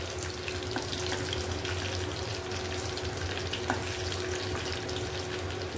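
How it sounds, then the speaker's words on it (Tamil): Pieces of chicken 65 fry in hot oil in a pan, giving a loud, continuous crackling sizzle that stays even throughout with no talking. "சிக்கன் சிக்ஸ்டி ஃபைவ் வறுத்து வறுக்கிறேன்"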